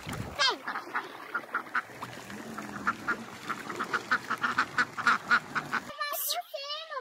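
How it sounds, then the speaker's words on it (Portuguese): A duck quacks in a fast run of short repeated calls close by, fairly loud and steady for several seconds, then a voice speaks briefly at the end. "Olha o marrequinho. Olha o marreco."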